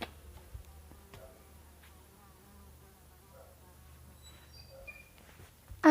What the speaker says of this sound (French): C'est le bruit de la moustique.